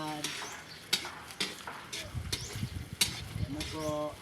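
Sardines sizzle in a frying pan while a utensil stirs and knocks against the pan in sharp clicks, with someone talking over the cooking.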